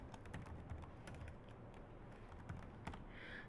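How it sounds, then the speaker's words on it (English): A git command being typed on a computer keyboard, a quiet run of irregular close key clicks with short pauses between bursts and no talking. "if I will type this time git status"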